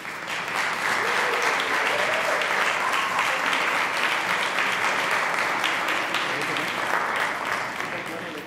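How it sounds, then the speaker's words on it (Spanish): An audience applauds panelists at a public talk event, with sustained, dense clapping that holds steady for several seconds before tapering slightly at the end. "Les pido un gran aplauso para nuestros tres panelistas."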